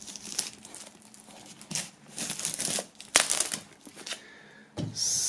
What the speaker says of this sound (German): Wir werden das Ganze mal aus der Folie befreien und uns dann im Detail ansehen.